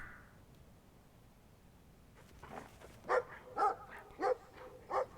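A dog barks in Brothers: A Tale of Two Sons, four evenly spaced woofs at moderate distance over quiet ambience, preceded by a brief soft tone and low rustling.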